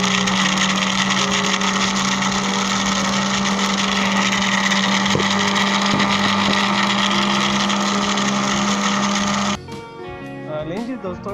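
An electric grinder grinds spices for beef kofta with a loud, steady mechanical whir that runs on and on, then stops suddenly and leaves some faint clatter behind.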